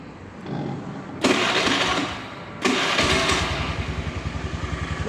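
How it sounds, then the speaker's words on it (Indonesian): Carbureted, factory-standard motorcycle engine being started, with two cranking attempts before it catches and settles into a steady, pulsing idle, heard close and alone. "Kami akan cek sound untuk suara mesinnya guys."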